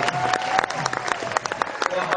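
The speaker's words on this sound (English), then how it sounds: "Give her another round of applause." An audience at a white tiger show claps in a short burst of scattered, uneven applause, with some crowd noise and a voice speaking over it.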